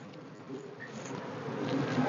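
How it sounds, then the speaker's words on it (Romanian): A dense swarm of honey bees hums steadily as they are shaken off a hive frame, close and continuous, rising slightly in loudness toward the end. "Hai că scutur un pic de albină."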